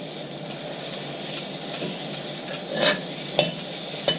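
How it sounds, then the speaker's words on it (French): Butter melting in a preheated wok, a steady bright sizzling hiss broken by regular scraping taps of a utensil roughly every half second, close and continuous. "on va commencer par mettre notre beurre dans un wok que j'ai mis à chauffer"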